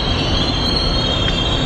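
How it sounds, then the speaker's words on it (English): Train rolling along rails, a loud steady rumble with squealing wheels, close and continuous throughout. "We're on the train."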